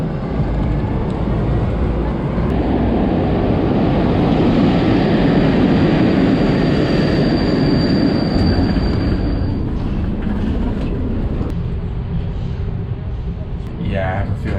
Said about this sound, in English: Yeah, I have a feeling this is gonna be a very, very long train ride.